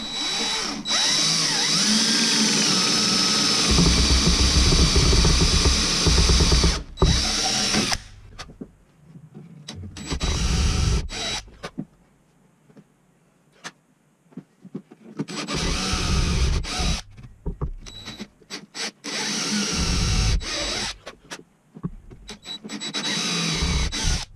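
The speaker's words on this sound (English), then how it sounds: "we're going to say a little prayer and drill a hole and see what happens" A power drill whirs loudly in long bursts, pausing and restarting several times as it bores into a wooden stair tread.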